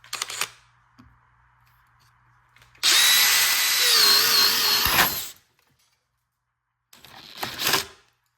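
A DeWalt cordless drill on a fully charged 5 amp-hour battery boring a 1 1/8 inch hole through wood, a loud whirring burst of about two seconds set between brief, quieter handling knocks.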